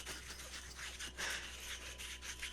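Wood being sanded by hand with bare palms, a soft dry rubbing rasp repeating in uneven strokes over a steady low hum, close and fairly quiet.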